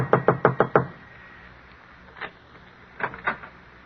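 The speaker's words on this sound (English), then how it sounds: "Finally, he comes to an apartment house, climbs to the top floor, and knocks on the door." Knocks on an apartment door in a radio drama: a quick run of five firm raps, then after a pause a single knock and a final cluster of three or four softer knocks, with no voices.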